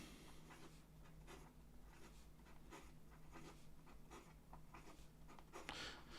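A fountain pen writing quickly on paper, with faint, soft scratchy strokes in short bursts, very quiet and close.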